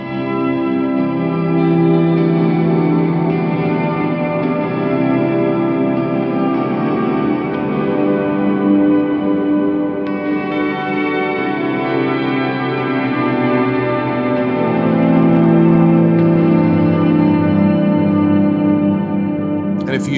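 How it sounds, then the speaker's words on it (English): Electric guitar drenched in huge ambient reverb with a shimmer effect, long sustained chords blooming into a thick, pad-like wash that rings continuously at a steady loud level, with no voices over it. "this so can achieve a very big ambient type of reverb, almost making it sound like you're playing a pad"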